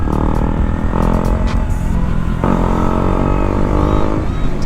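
Loud engine of a 2018 KTM Duke 125 motorcycle droning close up as the bike rides, the pitch shifting with gear changes and throttle.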